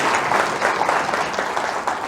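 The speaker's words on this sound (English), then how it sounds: "Give her a louder round of applause" An audience gives a club president a loud, sustained round of applause, with dense clapping throughout and no pause.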